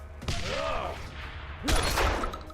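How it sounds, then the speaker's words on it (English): A shotgun blast in the video game Wasteland 2, two loud booming shots with echoing tails about a second and a half apart. "A shotgun blast."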